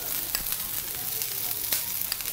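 Dosa batter topped with coriander, curry leaves and oil frying on a hot pan, giving a steady close sizzle with a few sharp crackles and no talking.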